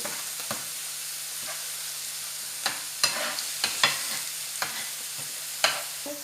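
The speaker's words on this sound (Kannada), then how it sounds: "ಈಗ ಹಸಿ ವಾಸನೆ ಹೋಗೋ ತನಕ ಫ್ರೈ ಮಾಡುವ ಇದನ್ನು" Onion paste fries in a pan for tava paneer, a steady low sizzle broken by sharp scraping knocks of a spoon stirring against the metal, with no one talking.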